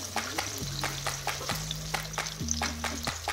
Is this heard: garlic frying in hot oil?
yes